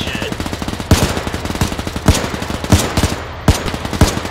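Gunfire in the Arma 3 military shooter during a team-versus-team desert event: a rapid string of loud, close shots in short bursts, with sharper cracks every second or so standing out from the volley.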